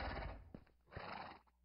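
A horse in the Minecraft video game gives two close neighs with a short pause between them, and nothing else is heard.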